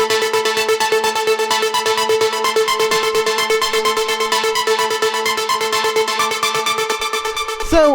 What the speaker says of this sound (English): The first thing up here are these two leads, which sound like this.